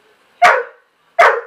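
A dog gives two sharp, loud barks about three-quarters of a second apart, each one alone with near silence around it.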